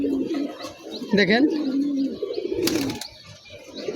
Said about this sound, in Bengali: এখানে আমার কিছু টুর্নামেন্ট খেলা কবুতর আছে